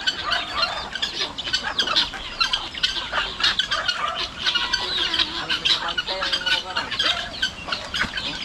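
Chickens cluck and squawk continuously in a farmyard on a cool day, several birds close by with busy, overlapping calls, occasional wing flaps and a voice speaking faintly underneath.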